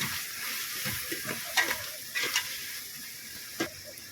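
Tomato and chili powder fry in a pan with a constant soft sizzle, punctuated by a few sharp stirring scrapes and taps nearby; no one talks.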